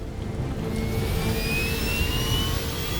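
Jet airliner engines roar during the takeoff roll down a runway, a loud, steady, close whine with rising tones over a deep rumble.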